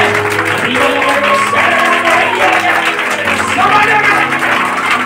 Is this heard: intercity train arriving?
no